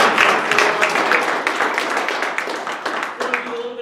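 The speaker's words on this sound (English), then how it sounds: "Give Constantine a round of applause." Audience applause for Constantine at a Phoenix Group monthly business event, a dense wash of many hands clapping that carries steadily for several seconds and thins slightly toward the end.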